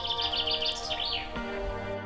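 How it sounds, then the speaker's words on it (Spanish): Birds singing outdoors in nature, a quick run of bright, warbling chirps up high, clear and fairly close, giving way to a softer sustained call. "la armoniosa melodía"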